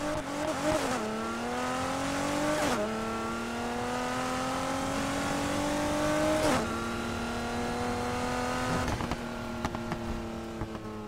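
A 1300-horsepower AMG C63 in a racing video game launches from a standstill, its engine roaring loudly up through the revs in a steady climb, with three sharp gear shifts breaking the pitch before each fresh rise.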